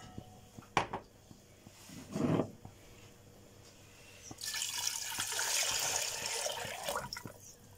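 About a litre and a half of water is poured into a pot for cooking rice, a soft, fairly quiet stream lasting around three seconds after a couple of brief knocks and clatters of kitchen handling.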